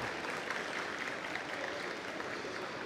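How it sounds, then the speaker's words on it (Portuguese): An audience applauds a speaker at a Campus Party smart cities stage session, a steady wash of clapping from many hands throughout, with no voices over it. "Uma salva de palmas para o Carlos aí, por favor."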